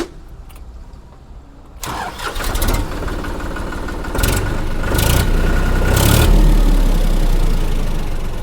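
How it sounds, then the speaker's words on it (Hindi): A Farmtrac 45 Promaxx 4WD tractor engine starts with a clatter and then settles into a loud, steady running rumble, with bursts that rise and swell as it picks up, and no talking. "इंजन की आवाज़ बहुत प्यारी है।"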